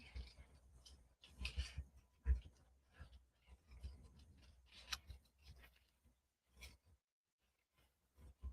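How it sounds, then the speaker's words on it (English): Scissors snip out a small paper flower during card making, producing faint, close, irregular crisp cuts and rustles of paper with brief pauses and no talk. "All right, now we'll cut out that little flower."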